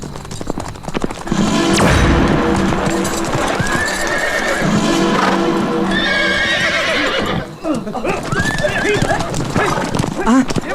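Horses pulling a chariot neigh and whinny loudly while hooves clip-clop, with a dramatic voice and other sounds of a fantasy scene layered around them.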